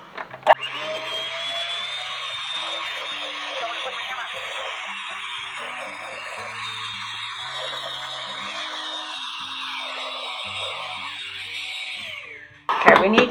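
An electric mixer creams gluten-free, dairy-free cake batter for an apple upside-down cake, its motor whining steadily and shifting slightly in pitch for about twelve seconds before it cuts off with a clatter.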